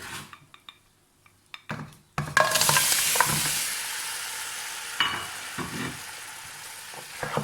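Red chili frying in ghee in a pan over low heat, a steady bright sizzle rising after a few soft clinks of a spoon, with occasional stirring scrapes.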